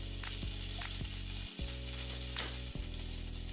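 Chopped onion sizzles steadily in a hot pan, a continuous close frying hiss with a few brief stirring clatters and no talk.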